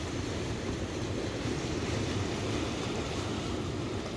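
Ocean surf crashing against volcanic rocks at a black sand beach in Dieppe Bay, a steady, loud, continuous wash of breaking waves with wind noise on the microphone and no talking.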